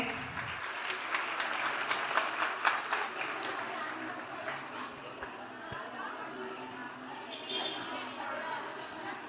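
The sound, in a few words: audience applause greeting the guest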